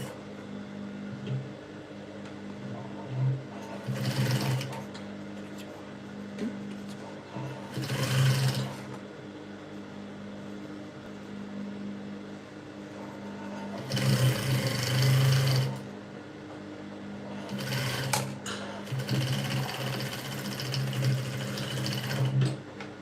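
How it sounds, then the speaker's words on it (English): Sewing machine stitching the seams of a princess bustier peplum blouse, running in several bursts of steady whirring with pauses between, close by. "Stop, turn, and keep sewing as you're going."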